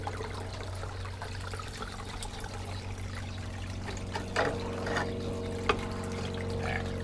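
Water runs and trickles steadily close by over a low hum, with a few splashy surges and clinks along the way.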